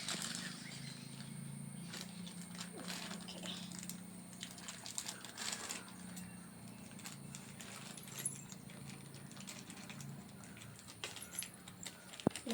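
A pink Hello Kitty music watch package is opened up close, with soft rustling, crinkling and small clicking handling noises spread through the stretch, quiet and without talk.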